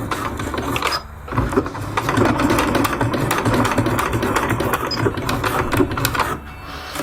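Stitching on a Dyneema bear bag with a sewing machine, a steady mechanical whir and rapid needle ticking that runs continuously for several seconds, close up, with a brief pause near the start.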